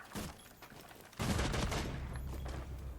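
Rapid bursts of Rainbow Six Siege gunfire crackle at moderate distance, growing denser and louder halfway through into sustained overlapping shots.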